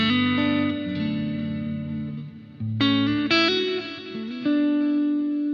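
An electric guitar played through a Boss GT-1000Core multi-effects unit on a JC Deluxe preset modeled on a Fender Deluxe Reverb amp rings out in sustained, clean chords that change every second or so, with a bright, shimmering chorus-like sheen.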